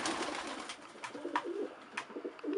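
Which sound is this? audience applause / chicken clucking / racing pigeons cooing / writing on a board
racing pigeons cooing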